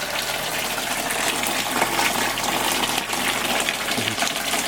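A strong, continuous rush of pressurized water gushing from a pipe, loud and steady throughout with no pauses, at an off-grid property in Spain.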